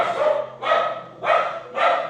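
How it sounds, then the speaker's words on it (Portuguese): A female dog barks four times in an even rhythm, each bark loud and close, with short quiet gaps between them and no talking. "Essa cachorra, ela late mesmo"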